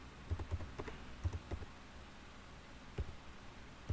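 A developer types a terminal command on a computer keyboard, a few quick bursts of close, soft key clicks separated by short pauses, with no talk.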